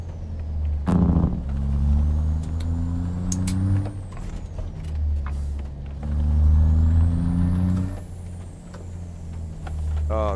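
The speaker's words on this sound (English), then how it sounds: "it's got air powered wipers. You can hear them." Air-powered wipers on a 13-speed manual truck with a roughly 320–350 horsepower engine in American Truck Simulator sweep with rhythmic hissing strokes over a steady low diesel drone, with periodic swells in the engine note.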